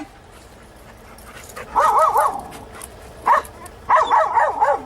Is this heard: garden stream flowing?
no